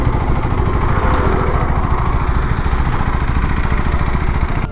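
A newly bought motorcycle engine runs steadily close by, a loud, even, rumbling putter with a continuous mechanical throb and no talk over it.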